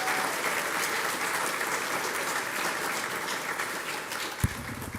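A trails summit audience in Humboldt County gives a sustained round of applause, an even wash of clapping from many hands that holds steady, with a single sharp knock near the end.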